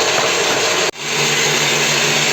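Electric mixer whipping cake batter in a kitchen, a steady loud whir with a brief cut in power, then running on evenly alone.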